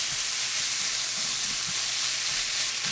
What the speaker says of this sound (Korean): 후추를 넣고 골고루 볶아줍니다